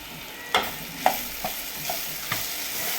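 Turmeric, coriander powder and garam masala stirred into vegetables cooking in a pan, with a gentle background sizzle and a handful of distinct spoon scrapes and taps spaced irregularly, close and unaccompanied by speech.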